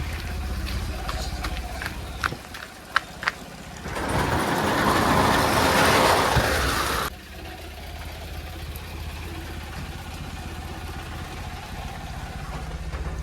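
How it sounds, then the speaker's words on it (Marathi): A car reverses in the rain, a low engine hum running under a stretch of loud steady rain-like hiss in the middle, with a few sharp clicks and thumps before and quieter idling after. "बाबाने गेट लावून दिलाय तर आपण लावतोय गाडी रिव्हर्सला"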